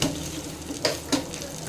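Brinjal slices frying golden brown in a pan with a soft, steady sizzle, broken by two quick scraping stirs close by.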